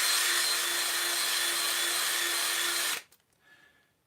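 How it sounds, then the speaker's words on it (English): A power drill spins a brass case trimmer in a steady, loud, continuous whine with a constant tone for about three seconds, then stops abruptly, leaving faint handling noise. "while I'm running my drill."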